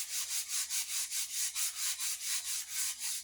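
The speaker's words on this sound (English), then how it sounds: "So I'm just taking a detail sander and I'm running it up some of the areas I had in the vise" A detail sander runs along an axe head to smooth out vise marks, a rhythmic rasping buzz that pulses about four times a second, close and steady throughout.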